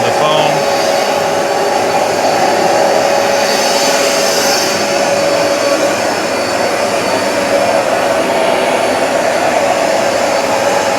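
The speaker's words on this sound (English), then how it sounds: "And we can suck that up just to help get rid of the foam." A Hoover Smartwash Pet XL carpet cleaner runs loud and close, its motor roaring steadily as it suctions foam off carpet, a continuous unbroken whine with no pauses.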